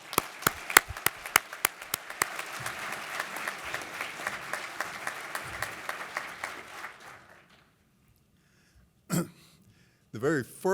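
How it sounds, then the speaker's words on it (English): Applause for the first-place winner at the Cast in Steel 2025 awards, with sharp claps standing out over a steady crowd clatter for about seven seconds before it dies away, followed by a few brief voices. "one more round of applause for the first place winner"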